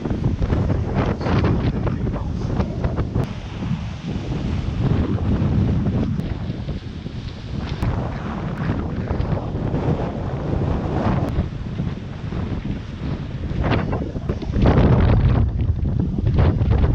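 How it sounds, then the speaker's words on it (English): Strong 30-knot wind roars at sea aboard a racing catamaran running downwind under jib alone, with steady loud buffeting on the microphone and rushing water noise throughout and no talking. "Here we are in about 30 knots of wind, running downwind."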